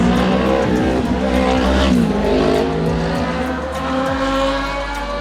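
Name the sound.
Kawasaki Ninja motorcycle passing by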